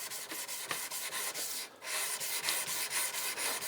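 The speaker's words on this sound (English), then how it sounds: "when you're sanding a knife with a differential heat treat" Sandpaper rubbed back and forth along a file-made knife blade with a differential heat treat at fine grit, a steady run of rhythmic scraping strokes with one short pause midway, close and alone.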